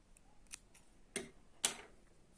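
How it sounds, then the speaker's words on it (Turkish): Scissors snip through yarn during a Turkish needle-lace carrot motif with three leaves and a tail, heard as three quiet, crisp cuts spaced about half a second apart in a hushed room. "Hemen burada ipimi kesiyorum."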